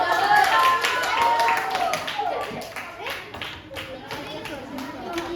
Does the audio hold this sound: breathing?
no